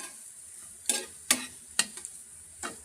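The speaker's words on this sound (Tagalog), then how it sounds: "Gisa pa natin ng konti." Vegetables stir-fried in a pan, with a low steady sizzle broken by several sharp scraping stirs of the utensil against the pan.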